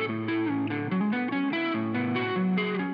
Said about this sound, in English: So I can change the amp.